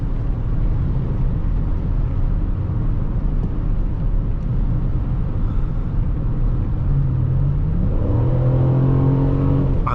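A 2005 Chrysler 300C with the 5.7L Hemi V8 cruises with a low engine drone, then kicks down and surges hard, its tone climbing sharply as it accelerates from inside the cabin.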